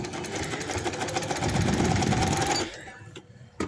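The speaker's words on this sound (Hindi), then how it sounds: "और एंड तक सिलाई लगा देनी है।" A sewing machine runs fast and steady while stitching elastic onto a fabric sleeve, then stops abruptly near the end, leaving a brief quiet tail.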